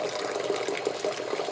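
Water runs steadily from a tap, splashing in a sink while wool is rinsed. The sound is a continuous, moderately faint hiss.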